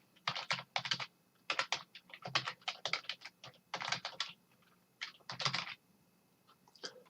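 A computer keyboard being typed on in quick bursts of crisp clicks, close and clear, with short pauses between words.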